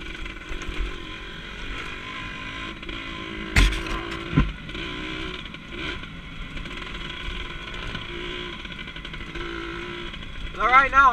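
A two-stroke RT 100 dirt bike engine runs steadily close by, a buzzing drone with a couple of sharp knocks partway through, while a voice talks over it.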